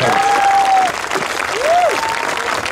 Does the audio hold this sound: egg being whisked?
no